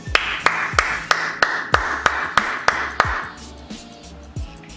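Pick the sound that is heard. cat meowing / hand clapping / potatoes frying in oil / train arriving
hand clapping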